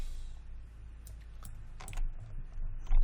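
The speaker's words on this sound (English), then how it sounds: "So hit Q on a keyboard" A few sharp computer keyboard key presses, close and quiet, spaced irregularly with a slightly louder final tap.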